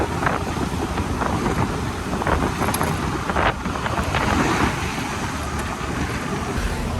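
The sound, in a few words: riding a motorbike, wind noise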